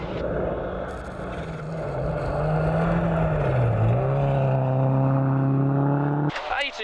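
A rally car on a stage at Rally Otago in the 2015 New Zealand Rally Championship roars past, its engine tone climbing and then dropping as it goes by, loud and sustained, with a voice talking over it.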